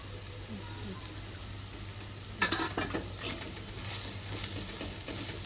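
Ginger garlic paste frying in a pan over a medium flame, a soft steady sizzle with a low hum beneath, joined midway by scraping stirring sounds and brief louder clatters.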